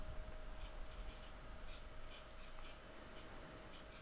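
A pen draws a diagram on a surface, heard as faint, soft scratching strokes in short repeated bursts over a steady low hiss. No one speaks.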